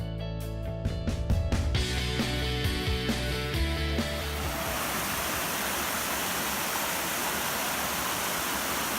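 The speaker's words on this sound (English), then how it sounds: "We have this pretty waterfall." A small waterfall spills over rocks in a creek along the Appalachian Trail near Sam's Gap, a steady broadband rush that holds constant and fairly close, with a brief stretch of music or other layered sound at the start before the water takes over.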